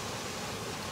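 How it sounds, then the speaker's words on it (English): A waterfall gives a steady, dense broadband rush, loud and close and unbroken throughout, with no voices. "Look at that beautiful, beautiful waterfall."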